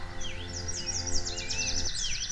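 Lesser bird of paradise (Paradisaea minor) calling in a New Guinea forest, a rapid series of clear, sweeping whistled notes rising and falling over a steady background hum.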